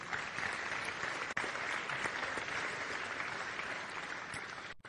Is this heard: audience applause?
yes